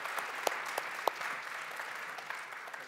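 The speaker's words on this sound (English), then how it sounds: "I think they really deserve a round of applause, the researchers and the keynote listeners." Moderately distant round of applause from a youth conference audience, steady dense clapping with a few sharper individual claps standing out.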